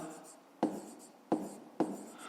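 A pen moves across paper while a fifth-grade math exercise is worked out, giving three short, distinct scratching strokes spaced about half a second apart, close by, with a faint voice in the background.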